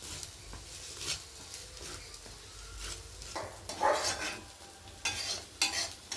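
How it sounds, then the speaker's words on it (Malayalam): Curry leaves are stirred into a ginger pickle in a pan. Soft, intermittent scraping and stirring strokes sit over a faint sizzle, growing a little louder toward the end, with no voices. "കറിവേപ്പില ഇട്ട് ഇളക്കാം."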